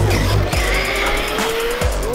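An RC car with red treads races over beach sand and launches off a ramp, its small motor whining loudly and steadily throughout with brief tire scrabbles near the start and end.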